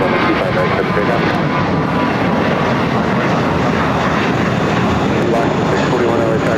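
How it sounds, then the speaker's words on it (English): A Copa Airlines Boeing 737 MAX 9 landing at LAX gives a steady, loud broadband jet roar that holds constant throughout, with faint radio chatter beneath. "just had a Copa Airline 737 MAX 9 touching down here on the south side"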